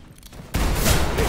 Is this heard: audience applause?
no